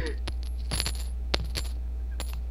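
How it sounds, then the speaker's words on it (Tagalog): Coins dropping and clinking in a few separate bright metallic bursts over a steady low hum, with no talk. "Uhulugan kita ng barya"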